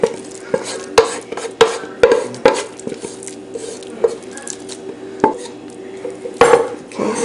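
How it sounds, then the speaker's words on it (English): A spoon presses and flattens sticky Sri Lankan milk rice, Kiri Baath, in a dish, making soft, close scraping and squishing strokes punctuated by light taps against the dish, with no talking. "just flatten it with your spoon, the back of your spoon"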